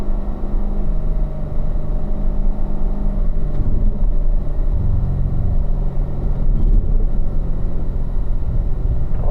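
Car engine held in third gear through a tight section of a racetrack, a loud steady rumbling drone that stays close and continuous throughout with slight swells in revs.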